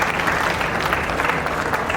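An audience claps warmly at a state-level youth festival award ceremony in Rajasthan, a dense, steady round of applause from a crowd lasting throughout.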